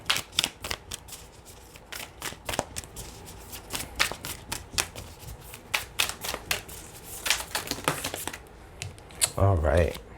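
Tarot cards being shuffled in a quick, crisp run of riffling flicks and taps lasting several seconds, close and fairly loud, with a brief muffled handling noise near the end and no speech over it.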